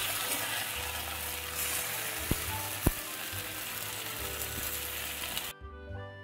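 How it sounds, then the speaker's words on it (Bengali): Tomato and potato fry with ground spice paste in a pan, giving a steady sizzle with a couple of sharp scraping clicks from stirring, before the sound drops away near the end. "টমেটোর সঙ্গে আলুটাকে কিছুক্ষণ নাড়িয়ে চাড়িয়ে ভেজে নেওয়ার পর আমি বাটা মশলাটা এর মধ্যে দিয়ে দেব"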